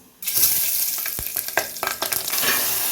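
Oil heated in a pot on a stove for a pumpkin mutton curry starts crackling abruptly and keeps up a steady, close, hissing sizzle with scattered pops and a stirring scrape throughout.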